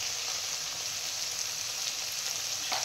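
Spices sizzle steadily in a hot wok as turmeric is stirred in while chholar dal is cooked, with an even, moderate hiss and a faint scrape near the end.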